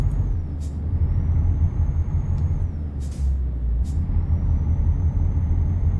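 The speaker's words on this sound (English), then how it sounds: "This is actually a really nice truck to drive." A 2018 Volvo VNR truck hauling doubles trailers in American Truck Simulator rumbles with a low steady engine drone, punctuated by several short bursts of air hiss and a whistling tone that dips and rises.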